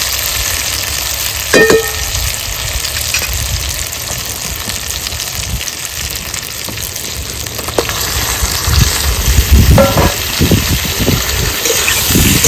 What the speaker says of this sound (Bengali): এবার দিয়ে দেবো কেটে ধুয়ে রাখা মাগুর মাছগুলো